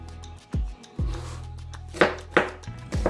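Red chili pepper being sliced thinly with a knife on a board, heard as a handful of distinct close knocks spaced irregularly over a few seconds, with no talk.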